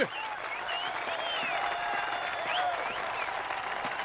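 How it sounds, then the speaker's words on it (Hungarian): Steady, dense applause from a large crowd, sustained throughout with whistles and cheers mixed in. "ünnepli a közönség!"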